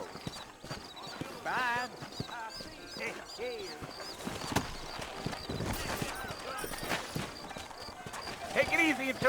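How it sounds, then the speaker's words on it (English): Horses trot with rhythmic clip-clop hooves in the Red Dead Redemption video game, mixed with a neigh and other game sounds while characters speak over them. "You ain't gonna find sturdier horses than these in all of New Orleans."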